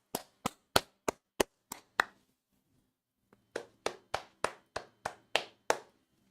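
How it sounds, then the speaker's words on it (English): One person claps slowly and deliberately for the referee while watching a Euro 2024 Portugal versus Turkey match, with six sharp, evenly spaced claps, a pause, then about eight more, close and crisp in a quiet room. "Round of applause for the referee."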